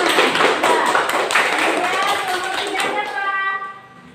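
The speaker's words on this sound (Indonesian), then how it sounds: "Ya, udah bagus juga kelompok 2 kita beri tepuk tangan." A classroom audience applauds a group presentation, a dense burst of clapping that fills the whole stretch and then thins out toward the end.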